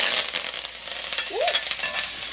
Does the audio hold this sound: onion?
yes